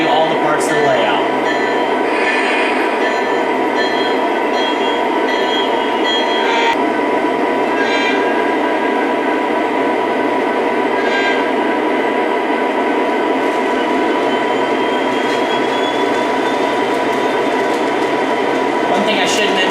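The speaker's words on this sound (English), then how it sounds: "As the train moves around, I'll show you all the parts of the layout." A model train pulling an intermodal train rumbles and whirs steadily along layout track, with scattered clicks and a rising whistle-like tone, while a person talks over it.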